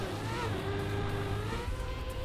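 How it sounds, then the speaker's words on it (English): A dirt-track car in the racing game Trackmania shifts gear, its steady buzzing engine drone dipping and changing pitch partway through, loud and continuous with no talk over it. "Ah, there's a gear change."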